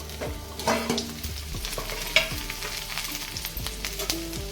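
Stuffed okra frying in oil in a pan, a steady crackling sizzle with repeated scraping and clinking of a spatula as the pieces are turned, close and without voices.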